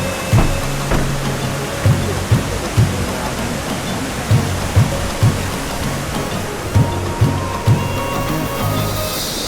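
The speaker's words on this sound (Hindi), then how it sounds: "एक तरफ बादल दूसरी तरफ से पानी की आवाज़" Water rushes loudly and continuously beside a bridge in the hills near Jim Corbett, a dense roar like a stream or small waterfall. Dull low thumps recur every second or so beneath it.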